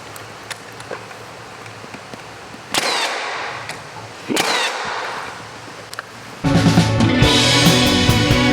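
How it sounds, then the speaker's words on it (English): A nail gun driving finish nails into wooden molding, heard as sharp, isolated snapping shots a few seconds apart, loud and close, with a harsher mechanical burst near the end. "So we'll get it pulled down to our little molding here and then shoot it with our finish nails."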